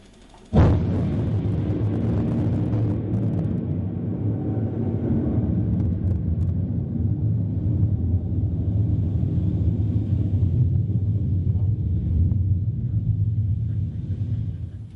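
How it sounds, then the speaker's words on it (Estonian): A sudden loud crack opens into a long, deep rolling rumble of thunder that sustains heavily for over ten seconds before tapering. "Õige müristamine peab olema õrnem, nostalgilisem, pühalikum."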